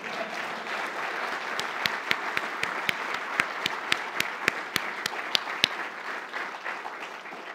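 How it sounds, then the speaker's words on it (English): An audience applauds Samuel Freedman at a journalism society event, a steady wash of many hands clapping with distinct sharper claps popping out through the sustained roar. "I think that deserves a round of applause"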